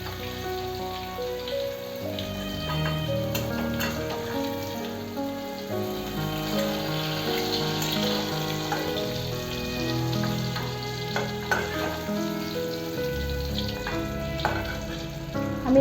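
Eggplant frying in hot oil, a continuous dense crackle and bubbling sizzle that stays steady and fairly loud throughout, close by with no talking.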